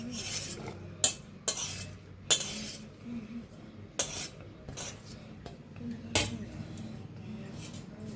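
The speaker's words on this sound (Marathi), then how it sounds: "आता जे आपण कांदा हिरवी मिरच्या कापून घेतल्या होत्या ते बी मिक्स करूया" A spoon stirring chopped onion and green chilies into appe batter in a bowl, soft wet scraping broken by several sharp metallic clinks against the rim at irregular intervals.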